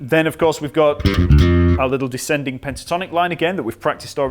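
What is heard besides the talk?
No everyday noise stands out behind the speech.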